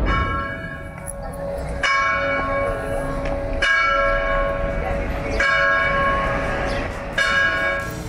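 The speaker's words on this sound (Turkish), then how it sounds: "Çanlar çalıyor bebeğim hadi." Church bells ring out over Athens, struck repeatedly in a steady rhythm of bright, resonant tolls with lingering overtones, moderately close and loud, with faint conversation and ambient city noise underneath.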